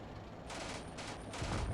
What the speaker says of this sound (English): there's some shooting happening somewhere